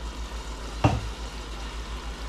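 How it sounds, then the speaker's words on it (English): Sloppy joe meat sizzling steadily in a pan as a second can of Manwich sauce is stirred in, a soft frying hiss with one brief, louder scrape of the spoon partway through. "Second can of Manwich, and just stir that on in"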